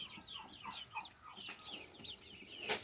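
Backyard hens at their food bowls on a homestead make repeated rising clucks and chirpy calls at moderate distance, with a sharper squawk near the end and no talking.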